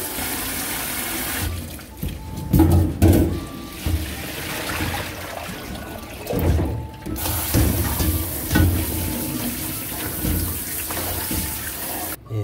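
Tap water running into a sink while squid are washed, a steady close splashing flow with intermittent louder sloshing and rubbing as the squid are handled, no voices.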